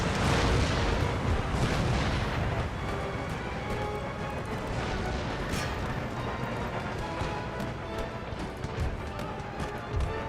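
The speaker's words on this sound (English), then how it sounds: "Those cannon hits are hurting." Booming cannon shots and a busy rumble of battle fill the scene in the video game Empire: Total War, with scattered impacts and galloping hooves mixed in; no talk.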